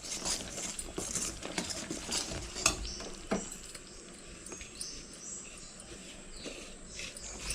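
Rice flour dough being stirred in a pan for sugar adhirasam, with soft scraping and knocking of a spoon against the pan, irregular close strokes over a faint background hiss.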